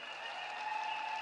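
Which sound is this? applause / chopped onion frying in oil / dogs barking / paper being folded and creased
applause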